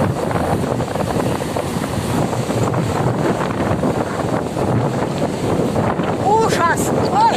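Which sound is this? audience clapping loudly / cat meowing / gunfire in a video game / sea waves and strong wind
sea waves and strong wind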